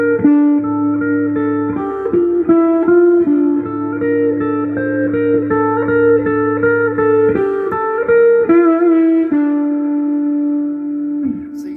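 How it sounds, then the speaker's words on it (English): Clean-toned electric guitar plays a slow melodic line through a subtle phaser, sustained notes with a gentle sweeping movement, steady and fairly loud, alone without any voice. "so you can hear that phaser's real subtle,"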